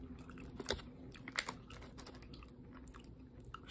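Crunchy chocolate-filled Hello Panda cracker being chewed, with close, soft crunches and a few sharper bites spread irregularly across a quiet background; no talking.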